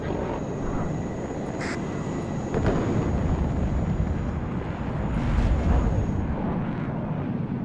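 A trainer jet in the Warno war game roars past as a broad, rumbling engine wash that swells and fades, fairly loud and steady, with no talking over it.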